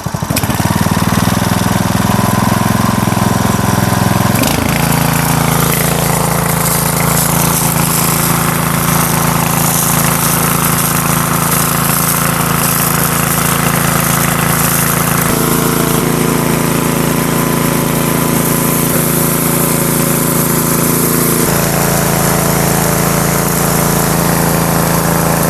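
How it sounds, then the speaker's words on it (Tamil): A GT Sakthi HTP portable power sprayer pump runs close by with a loud, steady engine drone and a rough mechanical clatter, its pitch stepping as the speed setting changes, with no talk over it. "இந்த GT சக்தி HTP பம்போட ப்ரெஷர் பெர்ஃபார்மன்ஸ் எப்படி இருக்குதுங்கிறது பார்த்துடலாம் வாங்க. ஸ்டார்ட் பண்ணியாச்சு."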